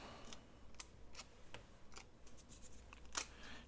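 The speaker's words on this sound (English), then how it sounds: "Use your Tim Holtz scissors if you want to cut that." Tim Holtz scissors snipping through a sheet of vellum at a craft table, a series of quiet, crisp cuts at an irregular pace, with one sharper snip near the end over a faint room hiss.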